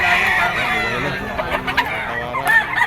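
White and red Kelso roosters at a crowded Bocaue, Bulacan gamefowl market, clucking and crowing close by in a steady busy stream, with bursts of louder calls near the end over background crowd noise.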